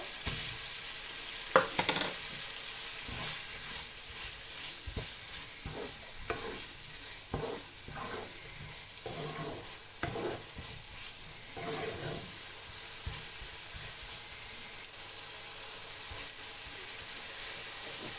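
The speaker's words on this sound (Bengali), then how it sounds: "মশলা কষানো হয়ে গেছে, এবার দিয়ে দিচ্ছি টমেটো।" Tomatoes go into a pan of sizzling fried spices for a pointed gourd, potato and carrot curry, giving a steady, hissing sizzle broken by repeated scraping stirs, with no voices.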